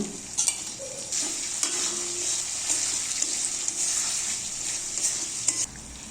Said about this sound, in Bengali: মশলা যাতে পুড়ে না যায় তার জন্য দিয়ে দিচ্ছি সামান্য একটু জল ভেজে রাখা আলুগুলো দিয়ে দিচ্ছি